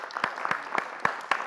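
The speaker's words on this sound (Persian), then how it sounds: "تشویق داشته باشین خانواده شمال" A small studio audience on a Persian-language family game show claps in a few sparse, separate bursts, light and fairly quiet, at a loose rhythm of about four claps per second.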